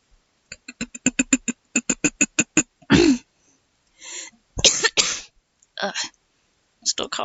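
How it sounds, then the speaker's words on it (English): A rapid burst of short, sharp coughs, followed by a few heavier, raspier coughs and throat-clearing sounds with pauses between them. "Still coughing a little bit."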